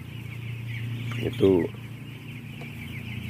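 Broiler chickens in a closed poultry house give a short clucking call over a steady low hum of ventilation fans, with a single spoken word nearby.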